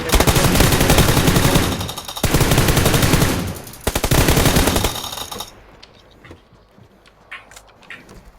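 Rifle and automatic gunfire from the video game PUBG Lite rattles in dense, loud bursts for several seconds, then breaks off into scattered fainter shots and clicks.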